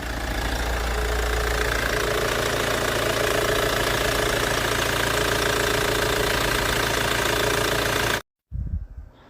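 An old Hyundai Tucson engine idles with a fault, a steady loud knocking drone under a failing charging system and generator, running unbroken for about eight seconds before cutting off abruptly, then a brief faint rustle.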